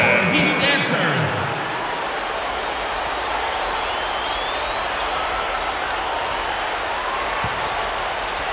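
Crowd applause and arena noise for the Heat in NBA 2K13, from the Warriors at Heat finals game, follow a brief burst of commentator talk and then settle into a steady, continuous roar with scattered whistles.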